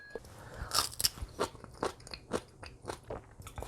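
Someone bites into and chews crunchy homemade kimchi made from salted cabbage, a close series of wet crunches and crackles at an uneven chewing rhythm, with no talk.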